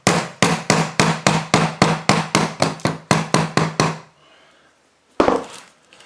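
A hammer taps a starter motor repeatedly to knock a part loose, about a dozen sharp, close metallic knocks in steady rhythm, then a pause and one final strike.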